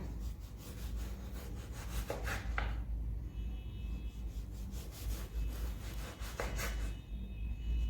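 A stuffed mango being cut with a knife while making mango kulfi; repeated close rasping, scraping strokes over a constant low hum, with a few sharper cutting bursts and no talking.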